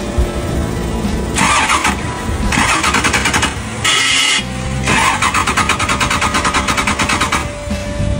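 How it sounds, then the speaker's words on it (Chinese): A V8 car engine cranks repeatedly with loud starter bursts, then catches and runs in a steady rhythmic chug, close and loud, with no voices. "启动一下这 V8 的状态"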